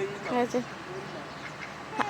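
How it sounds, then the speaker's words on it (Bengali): Several ducks quack near a morning walking path, a quick burst of calls at the start and another short squawk at the end, fairly close, over soft outdoor background. "এই যে চারিদিকে হাঁসগুলো মানে ভয় পাচ্ছে"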